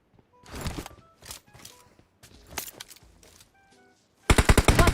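Gunfire in the mobile battle game PUBG Mobile: separated single shots and short bursts at mid distance, ending in a loud rapid close-range automatic burst, with no talking.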